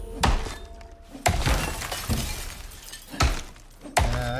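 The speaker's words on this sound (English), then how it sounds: "I heard the breaking glass." Glass breaking and shattering, several sharp crashes and impacts spaced a second or so apart, loud and close, with clinking debris ringing between hits.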